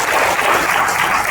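An audience applauds director Perarasu with a dense, steady wash of many hands clapping together, loud and continuous throughout the short stretch.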